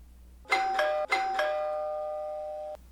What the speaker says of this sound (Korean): 초인종이 몇 차례 울렸는데 아무 기척이 없었다